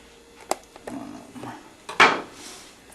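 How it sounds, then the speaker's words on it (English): A knife cuts through folded bacon pieces on a kitchen board, giving a few short, close taps and knocks, with one louder sharp clack near the end and no speech. "what you want to go ahead and do is just fold it in half, however it is you want to cut it"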